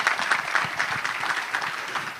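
Audience applause at a Cumberland County Legends recognition event, steady clapping from a room of people throughout, moderately loud and continuous without talk.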